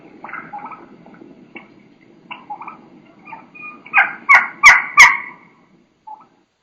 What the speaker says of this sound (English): young hen, and she's going to have a real high pitch. She's going to be doing quite a bit of keeking, some high pitch sounds